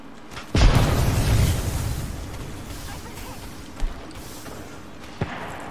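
A grenade goes off in a video game with a sudden deep boom that rumbles and fades over about a second and a half, followed by a couple of smaller sharp pops.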